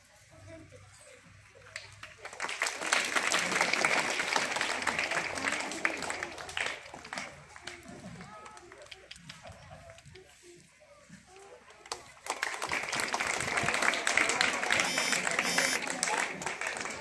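Audience applause at a school function honoring a Marathi poet, a broad wash of clapping that swells around 2.5 s, eases midway, then rises again near 12 s and carries on steadily to the end.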